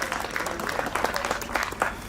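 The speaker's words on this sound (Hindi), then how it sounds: "ढेर सारी तालियों के साथ स्वागत करेंगे।" An audience at an inaugural event for IGL and PNGRB applauds to welcome guests onto the stage. Many hands clap in a loud, close, continuous patter for the whole stretch.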